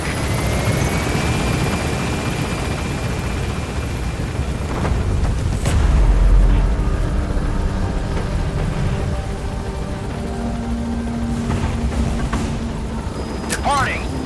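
A helicopter in Metal Gear Solid V: The Phantom Paint hums and thumps loudly and steadily throughout, with game voices and a low boom partway through.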